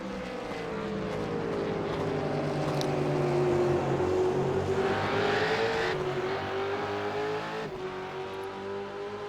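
A V8 race car engine in a video game drones steadily, its pitch sliding down then climbing again as it revs, loud and continuous with no talking.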